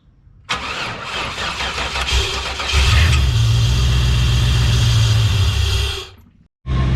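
A 1994 Chevrolet Caprice engine cranks and catches, then settles into a loud, steady running idle close by that holds for several seconds before cutting off abruptly near the end.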